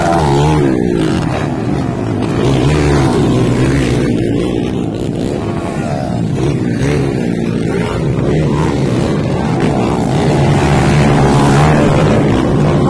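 Underbone motorcycles at a race, engines roaring loud and continuous up close, a sustained high-revving drone with a crowd-like wash underneath.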